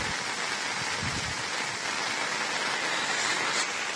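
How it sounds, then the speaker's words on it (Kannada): Floodwater runs across the Napol road near Bhagamandala's Triveni Sangam in Madikeri after two days of heavy rain, a steady broadband rush that holds evenly throughout. "ನಾಪೋಲ್ ರಸ್ತೆ ಮೇಲೆ ಸ್ವಲ್ಪ ನೀರು ಹರಿತಾ ಇದೆ"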